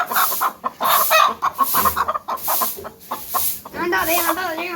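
Hens cluck repeatedly up close in a village, their squawks and cackles rising over a voice talking nearby.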